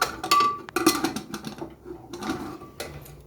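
Scattered metallic clinks and knocks sound as a lid is fitted onto a pressure cooker holding moong dal with bitter gourd, several close, uneven taps spread across a few seconds.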